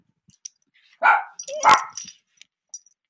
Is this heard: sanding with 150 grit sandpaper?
no